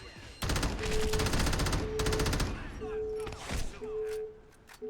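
Rapid machine gun fire in the video game Crackdown, two loud sustained bursts followed by scattered shots and explosions, with game music and voice sounds mixed in.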